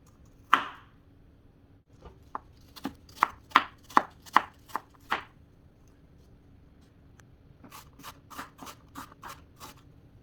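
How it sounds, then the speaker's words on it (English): Knife chopping an apple into small bite-sized pieces on a cutting board, a series of sharp close taps in two quick bursts separated by a short pause. "cut it down into small bite-sized pieces"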